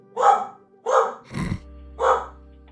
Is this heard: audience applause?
no